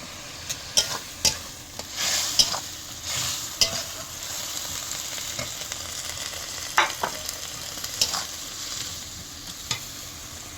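Tomatoes go into a frying rohu fish curry with a steady sizzle, while a spoon scrapes and stirs the pan in irregular clicks and clatters, close and moderately loud, with no voices.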